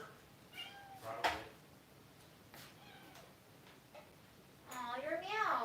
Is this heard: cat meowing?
yes